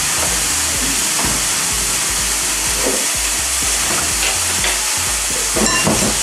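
Food sizzles steadily in a hot pan, a loud continuous crackling hiss with occasional pops and stirring scrapes.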